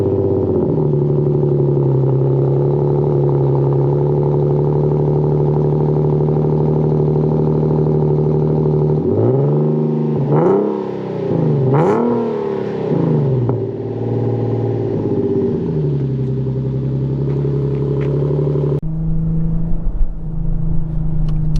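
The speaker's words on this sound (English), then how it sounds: "I'm about to let you feel what it feels like to drive a Z, man." A custom Nissan 370Z driving, its steady engine drone shifting into rising and falling revs as it accelerates, loud and close from inside the car, with no talking.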